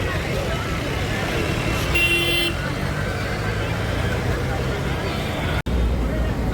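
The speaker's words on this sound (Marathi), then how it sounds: "गर्दी आहे बघा, फुल ट्रॅफिक जाम झालंय." A single short car horn toot sounds over a steady wash of crowd babble and road noise during a traffic jam, as a walking pilgrimage procession moves slowly along a crowded road.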